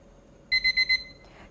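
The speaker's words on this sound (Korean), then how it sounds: "가스레인지 근처에서 타이머가 울릴 때까지 기다리겠습니다." A kitchen timer near a gas stove, used while cooking kimchi stew, rings in four quick evenly spaced bursts of bright electronic beeping, clear and close against a quiet room.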